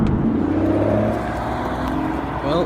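A manual Aston Martin DBS pulls away close by, its engine note swelling and whirring briefly as it accelerates off.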